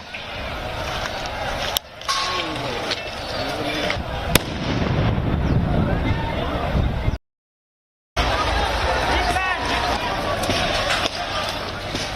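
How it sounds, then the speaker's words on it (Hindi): During a farmers' protest at Delhi's ITO area, police fire tear gas shells, heard as sharp sporadic bangs and pops amid loud crowd noise and shouting, with a short silent gap in the middle. "पुलिस ने आंसू गैस के कई गोले एक के बाद एक दागने शुरू कर दिए"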